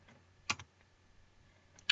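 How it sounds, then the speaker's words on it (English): Numbers are typed on a computer keyboard: a few sharp key clicks, one firm tap followed by a quick second, then a pause and another click at the end, close and isolated in a quiet room. "You can just type in 10 numbers separated by spaces, then press enter."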